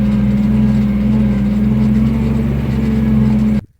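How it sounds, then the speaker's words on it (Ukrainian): A Skaut TV-904 S tractor engine drones steadily at low pitch, straining in first gear while pulling uphill, loud and close, then cuts off abruptly at the end. "І от першою передачею трактор тягне."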